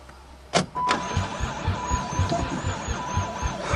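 An old van that had not run in years, fed stale gas, cranks and then catches. A couple of sharp clunks are followed by a rough, pulsing engine running close by, loud and uneven.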